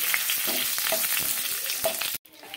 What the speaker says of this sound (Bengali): ঘিটার মধ্যে দুটো শুকনো লঙ্কা দিয়ে দিলাম, দিয়ে দিচ্ছি অল্প পরিমাণে জিরে